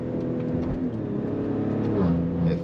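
A Maserati Levante S hums through a steady drone as it drives, with the engine pitch rising and dropping slightly through quick automatic gear shifts, heard from inside the cabin without speech.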